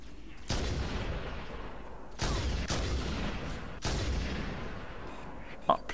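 Gunfire in the video game Halo 1: three heavy, booming shots spaced a second or two apart, each trailing off with a long rumbling decay, followed by a short sharp click at the end.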